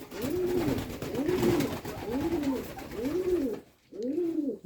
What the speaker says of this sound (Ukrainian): Треба зловити цього голуба.